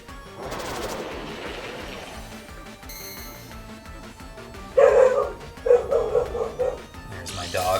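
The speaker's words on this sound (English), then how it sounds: "There's my dog in the background going ballistic." A dog barks and yips in the background during a Pokémon battle session; sharp bursts come in a cluster in the second half, with people talking over them.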